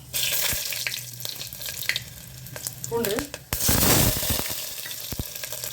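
Mustard seeds and dried red chillies sizzle and crackle steadily in hot oil in a pressure cooker, with brief clatters of stirring and a loud burst of frying midway as more goes in; a word spoken briefly.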